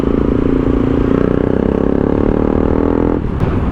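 A Bajaj Pulsar NS 200 motorcycle fitted with an Akrapovič exhaust idles loudly and steadily, with a rapid pulsing exhaust note that drops off abruptly near the end.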